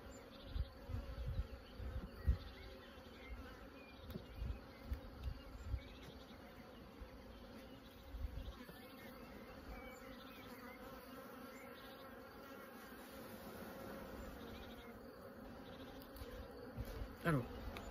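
Honeybees at an open beehive during a frame inspection: a steady, close swarm hum throughout, with soft handling bumps and knocks in the first half and again near the end.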